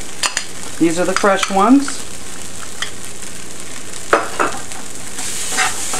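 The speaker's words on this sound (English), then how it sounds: "We're going to add the garlic. And the mushrooms." Garlic and fresh mushrooms sizzle in a pan with a continuous hiss and occasional stirring clatter. A person speaks briefly over the frying near the start.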